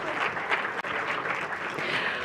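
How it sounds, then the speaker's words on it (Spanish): Moderately quiet applause from the audience at a UX research talk, a continuous patter of many hands clapping with one short dip partway through and no speech over it. "un fuerte aplauso a todos aquellos que se animaron a compartir"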